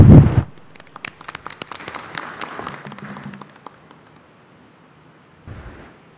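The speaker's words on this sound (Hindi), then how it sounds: "आइए हम भाई पुरोहित फादर अनिशांत को ताली बजाते हुए धन्यवाद" A church congregation applauds a newly ordained priest at his ordination Mass, a scattered patter of many hands that swells briefly and fades, with a loud thump at the start and a short burst near the end.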